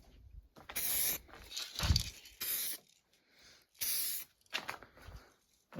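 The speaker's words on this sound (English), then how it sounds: "We're going to put on an inaugural coat and see if it reacts. If the paint starts to bubble, stop." Aerosol spray paint hisses onto a Mazda Miata radio part in several short bursts of about a second each, close and fairly loud, with quiet pauses between them.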